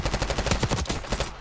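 Rapid sniper and automatic gunfire in Call of Duty, a dense run of sharp, loud shots in quick rhythm lasting just over a second before easing off.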